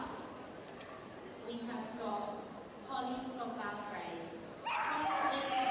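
Dogs yip and bark in short bursts at a Crufts agility competition with large jumps set up, while a commentator talks over the sound throughout.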